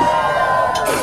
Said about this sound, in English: You're now cheering wildly.